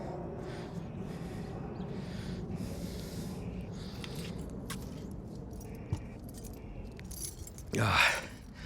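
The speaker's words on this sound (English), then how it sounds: "And I need the keys to the shed too." A ring of shed keys jangles briefly and close by near the end, after a stretch of quiet rustling and heavy breathing.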